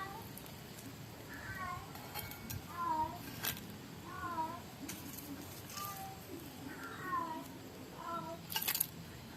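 A cat meows repeatedly, several short plaintive mews spaced a second or two apart, moderately close against faint background noise.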